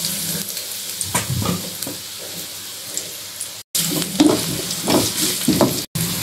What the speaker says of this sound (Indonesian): Kita tumis bawangnya sampai wangi dan matang, agak kecoklatan gitu ya teman-teman